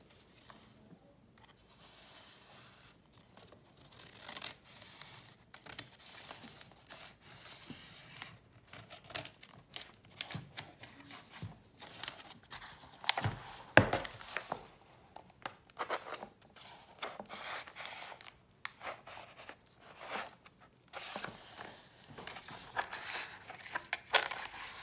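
Scissors snip paper for a repair piece on an old book's loose page, giving faint, scattered crisp cuts and rustles close by, with no talking.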